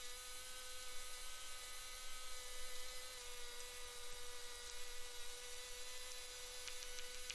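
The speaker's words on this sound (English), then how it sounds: "when you're using a power screed like that" A power screed runs at about half throttle over a freshly poured 60-yard concrete slab, a steady, faint, high engine whine with a constant tonal hum and no talking.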